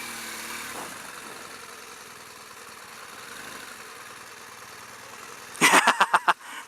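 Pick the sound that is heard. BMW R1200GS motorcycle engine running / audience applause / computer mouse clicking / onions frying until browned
BMW R1200GS motorcycle engine running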